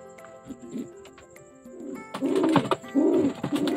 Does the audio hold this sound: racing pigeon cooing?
yes